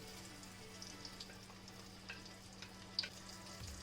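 Masala sizzles gently in ghee in a pan, a soft steady frying hiss with occasional faint stirring scrapes, quiet and close.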